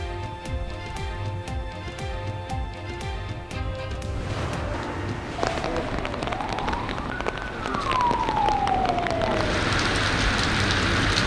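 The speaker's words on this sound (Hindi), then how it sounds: "कराची में मॉनसून की पहली बारिश।" Monsoon rain pours down over Karachi streets, a dense steady hiss that grows heavier toward the end, with rhythmic tapping early on and a rising and falling siren-like wail drifting through the middle.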